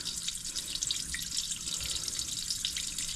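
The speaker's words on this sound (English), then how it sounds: "take my cap off, and see that it is draining" Water draining through an open cleanout on an RV septic pipe, a steady close trickle and hiss with faint drips, and no talk.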